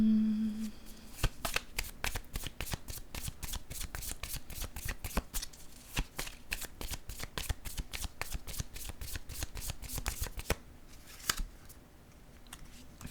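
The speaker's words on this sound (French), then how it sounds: "Je vais déposer une autre carte ici." Cards are handled and laid down on a table in a rapid series of crisp, close slaps and riffles that run for about ten seconds before thinning out near the end.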